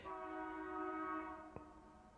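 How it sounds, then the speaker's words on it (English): A long, steady train horn blares at a distance, holding its chord for over a second before fading, followed by a brief thump. "Not sure if you heard that was a train horn."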